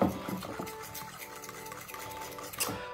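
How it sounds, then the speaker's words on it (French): Crêpe batter being whisked in a bowl after a splash of milk, a quick steady stream of light scraping ticks under soft background music. "je rajoute un petit peu de lait et je continue à mélanger"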